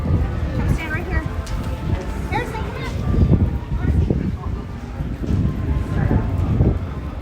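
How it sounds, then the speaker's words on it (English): Gusty wind blowing outdoors at Disneyland, a broad rumbling buffet on the microphone that rises and falls under a person speaking throughout. "We have a lot of wind blowing around today."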